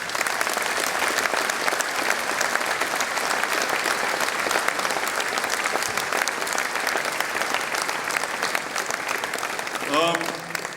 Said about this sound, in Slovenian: predlagam pa z enim velikim aplavzom